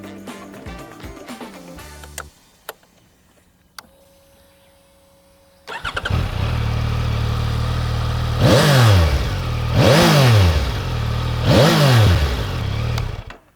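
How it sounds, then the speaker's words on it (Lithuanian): A three-cylinder Yamaha Tracer 9 GT motorcycle engine starts and idles with a rough, throaty note, then revs sharply three times in quick succession, loud and close. "Bet prieš tai, kaip visada, reikia paklausyti, kaip šis motociklas skamba."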